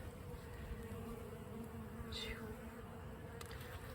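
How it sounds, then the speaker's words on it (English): Steady, dense buzzing of many bees on a farm fills the air continuously, with one bee droning briefly louder as it passes close. "That's a lot of bees."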